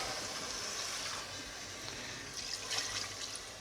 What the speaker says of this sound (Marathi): हे थोडंसं पाणी ॲड करून घेऊया.